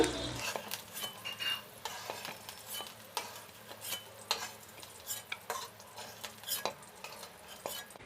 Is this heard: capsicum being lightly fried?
yes